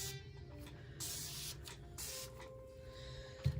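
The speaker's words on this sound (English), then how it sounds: "I love this spray bottle." A spray bottle gives several quick hissing spritzes, a few short bursts spaced apart in a quiet room.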